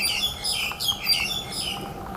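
Shy wild birds chirp and call repeatedly in an outdoor area, several bright tweets rising above a steady background hiss without any talking.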